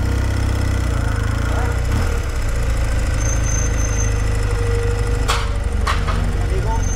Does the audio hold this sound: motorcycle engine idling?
yes